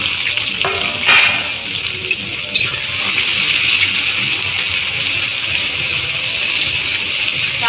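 Chopped onions hit hot oil in a pan over a wood fire, giving a loud, steady sizzle and hiss with a brief stir or two early on.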